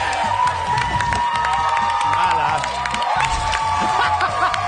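A studio audience on a French game show cheers wildly, a loud continuous crowd roar with whoops and shouts, while a host's voice speaks briefly over it.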